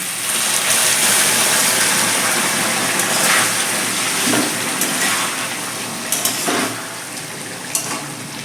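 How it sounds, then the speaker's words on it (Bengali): Hot water poured into a simmering vegetable curry masala of potato, pumpkin and pointed gourd in a kadai, a steady gushing sizzle that holds loud throughout with small bubbling bursts and no talk. "এবার আমি একটু গরম জল দিয়ে দিচ্ছি"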